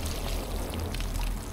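Water pours steadily in a spooky video game, a continuous close stream with a low rumble beneath it.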